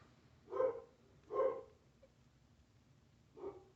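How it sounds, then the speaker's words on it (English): A dog barks three times indoors at moderate distance: two evenly spaced barks, a pause, then a slightly softer third bark, with a quiet room hum between them. "Sorry that the dog is barking."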